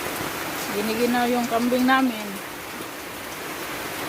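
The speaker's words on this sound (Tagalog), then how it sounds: "lakas ng ulan." Heavy rain pours steadily on a farm where goats are kept, a dense even hiss of drops on surfaces throughout, with a person speaking briefly over it near the start.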